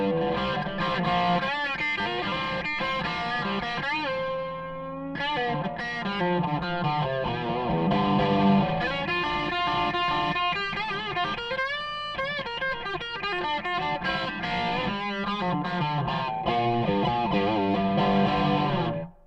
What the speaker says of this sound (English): Okay, so you get kind of a bluesy crunch there.